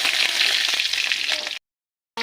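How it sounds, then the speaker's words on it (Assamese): Chicken meat frying in a hot pan in a home kitchen, a steady dense sizzle for about a second and a half before cutting to silence, with a brief return at the end. "মাংসখিনি মই ফাৰ্ষ্টত ভাজি লৈছোঁ।"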